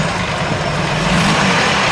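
Supercharged vintage Alfa Romeo race car at the Concorso Villa d'Este, a loud, steady engine drone close by with a slight rise in intensity toward the end.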